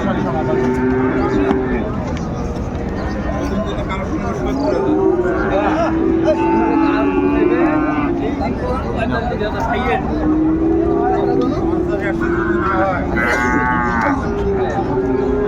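Sahiwal breed cattle low repeatedly at a busy bull market in Dinajpur, a series of deep, drawn-out moos at close and mid distance over a murmur of crowd noise and someone talking.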